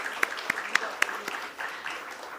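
A modest round of applause at a stock exchange listing ceremony, a few distinct louder claps standing out early over a light, steady patter of hands that carries on to the end.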